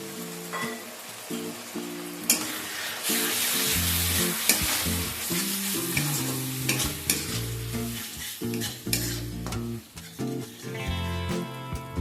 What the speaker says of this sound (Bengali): সামান্য পরিমাণ জল অ্যাড করে মশলাটাকে কষিয়ে নেব।